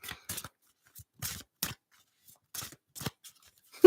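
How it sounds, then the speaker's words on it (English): A deck of tarot cards is shuffled in short, dry riffling bursts at irregular intervals, close and fairly quiet, with silence between each pass. "You ready? I'm shuffling."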